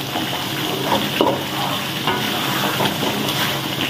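Spice paste sizzles and crackles steadily in a hot pan, with occasional scraping stirs cutting through the constant frying noise.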